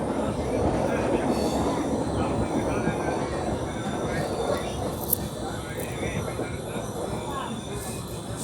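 A train pulls into Thrissur railway station on a Chennai to Kollam Sabarimala special: a steady loud rumble of wheels and carriage noise, with faint squeals and a sharp click near the end, no talk.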